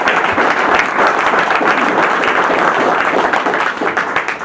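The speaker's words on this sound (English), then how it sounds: "So big round of applause for them all." Applause from an audience at a public city planning workshop, a dense, steady wash of clapping that fills the whole stretch at close range and stays loud throughout.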